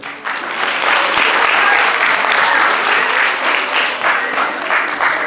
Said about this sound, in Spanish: Y otro aplauso para Pedro Piedra,